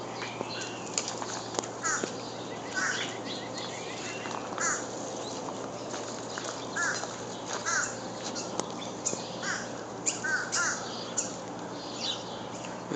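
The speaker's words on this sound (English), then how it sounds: "Crows are gathering over by our house." Crows gathering near a house caw repeatedly in short, scattered bursts from moderate distance, over a steady low outdoor hum, across about thirteen seconds.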